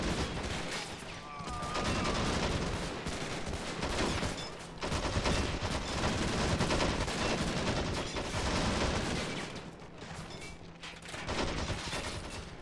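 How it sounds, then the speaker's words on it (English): Rifle and machine-gun firefight in the Men of War Planetside 2 mod video game, a Conglomerate bridge assault: dense, continuous volleys of gunfire and crackling shots throughout, with heavier bursts layered in at steady loudness. "look at that rifle go. That's amazing. I think we're just going to enjoy this firefight."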